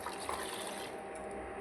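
Milk poured into hot water for tea, a steady close liquid pour with broadband splashing that runs continuously without pause.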